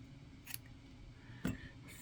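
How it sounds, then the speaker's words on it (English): Small scissors snip squirrel tail hair off near the bone while tying a fly lure, two crisp quiet cuts about a second apart over a soft room hiss, no talk. "I'm just going to cut it off the bone down here."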